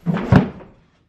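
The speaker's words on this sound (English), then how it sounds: "just knocked over their scratcher thing" A cat knocks over a scratcher at home, giving a single loud hollow thud and clatter that quickly dies away.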